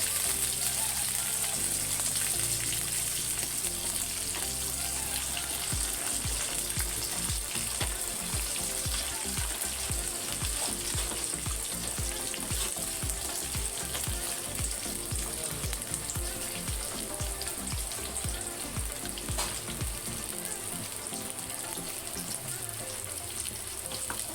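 Food sizzles continuously in a hot pan while it is stirred and mixed, a dense steady hiss with faint rhythmic scraping throughout.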